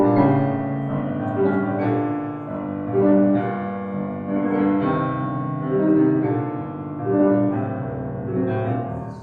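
Solo piano plays a passage from a Liszt etude, with rich sustained chords and a heavy bass register in a rolling, surging rhythm. The playing is close and full, with no talking.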